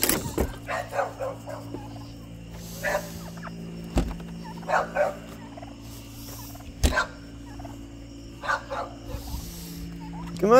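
Chickens on a homestead cluck and call in scattered bursts over a steady low hum, joined by a few sharp knocks and what may be a distant dog.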